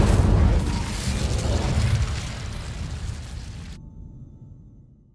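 An Incendio fire spell cast in Hogwarts Legacy bursts out as a loud whooshing blast that rumbles and fades away over several seconds, with no voices.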